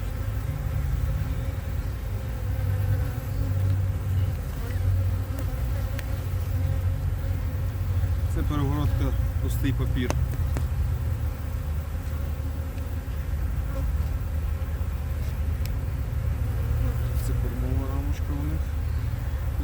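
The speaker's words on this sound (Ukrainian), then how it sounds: "також є молода бджола, я бачу, ходить." Honeybees hum steadily around a package beehive fitted with a plastic frame divider, a continuous close drone running beneath a man's speech throughout.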